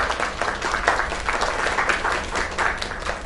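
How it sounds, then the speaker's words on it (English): In the video game Lake, an audience breaks into a short burst of steady applause, a crowd clapping at moderate distance with no talk over it. "Another round of applause."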